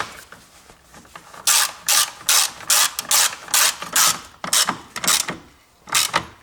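A hand ratchet tightens a bolt on the engine battery of a 2017-onward Toyota Corolla 1.8 petrol hybrid, giving a run of loud, close bursts of rapid clicking separated by short pauses, with no voices.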